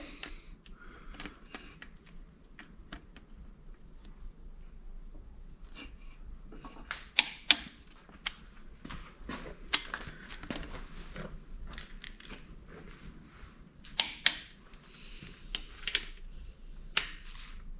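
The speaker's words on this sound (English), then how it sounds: "Got my torque wrench set to 36 pounds. We'll go ahead and get these bolts torqued down." A torque wrench set to 36 pounds clicks while engine bolts are tightened down. Sparse, sharp clicks and small metallic ticks sound close and fairly quiet, with a few louder snaps spaced irregularly through the clip and no talking.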